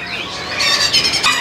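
A caged cucak biru (cabiru) songbird at a bird seller's gives a short burst of bright, high chirping whistles, close and fairly clear, with no voices over it.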